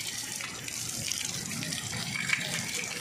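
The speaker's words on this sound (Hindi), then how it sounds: "1 साल बाद ये देखें, पानी के परनाले चल रहे हैं, वो सामने आपको बिल्डिंग के ऊपर नज़र आ रहे हैं।" Rainwater pours from rooftop spouts on a building during heavy rain, a continuous broad splashing gush that holds steady and fairly loud throughout.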